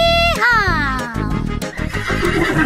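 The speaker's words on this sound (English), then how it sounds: "with a neigh, neigh here and a neigh, neigh there" A horse neighs loudly and close within a children's nursery rhyme, a long descending whinny followed by shorter snorting neighs over a bouncy musical backing.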